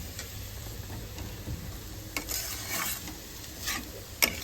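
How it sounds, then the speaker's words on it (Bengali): Potatoes frying in a pan give a steady, faint sizzle throughout, with a few sharper ticks and scrapes, and no one speaks. "এটা প্রায় হয়ে গেছে আলু ভাজা"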